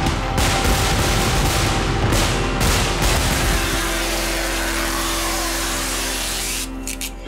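Loud, dense crackling bursts and booms pile up in a rolling barrage, then thin into a sustained hiss and rumble as the explosions taper off.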